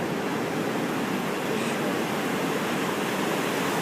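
Big waves washing in at Hanalei Cove, a loud, continuous roar of surf and churning water, steady throughout with no voices.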